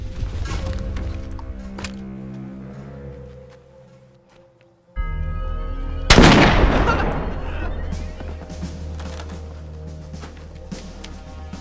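Covering gunfire in an action movie erupts as a sudden loud burst after a brief silence, followed by sustained rumbling shots and mechanical clatter mixed with a dramatic score.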